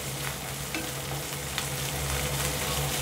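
Chopped tomato goes into a hot pan of Andhra chicken curry base with onion, curry leaves, green chilli and ginger-garlic paste, which fries with a steady, close, continuous sizzle and no voices.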